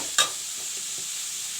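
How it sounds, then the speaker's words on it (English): Onions frying brown in a pan with bay leaves for chicken curry give a steady, close, broadband sizzle throughout, with one brief clink of the utensil near the start. "Now I will let the onions fry brown."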